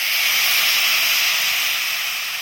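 Water hitting hot jaggery in a pan gives a steady, loud hiss of steam lasting the whole time and fading slightly at the end, with no talk over it.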